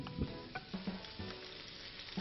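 Flat pork ribs cut into small pieces sizzle and crackle in hot oil in a paella pan, a quiet, steady frying hiss broken by small pops and spits.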